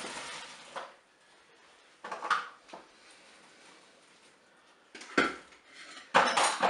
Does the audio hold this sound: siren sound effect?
no